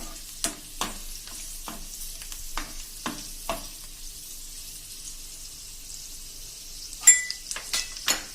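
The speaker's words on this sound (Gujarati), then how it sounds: "હવે એમાં આપણે આખી લસણની કળી 8 થી 10 નાખી દેશું અને એને આપણે સેજ એવી સાંતળી લેશું" Eight to ten whole garlic cloves frying briefly in hot oil for an onion chutney, with a soft steady sizzle broken by scattered stirring scrapes, quiet and close, with no voices.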